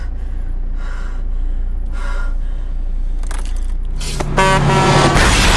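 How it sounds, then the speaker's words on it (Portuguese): A car swerves on a road in a film scene: engine rumble under sharp gasps and whooshes, then a harsh scraping, grinding burst building loud at the end. "o carro que vinha na faixa ao lado passa de raspão ao lado de Manel"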